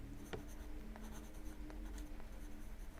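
A pen scratches as colour names are written onto a paper colour wheel, soft close-up strokes and small taps in an irregular rhythm against a quiet room.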